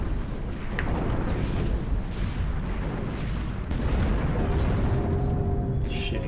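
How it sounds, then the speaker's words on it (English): Ship parts blowing apart in the space combat game Space Pirates and Zombies 2, a dense, continuous rumble of overlapping booms and bursts that stays loud throughout. "All their parts are exploding."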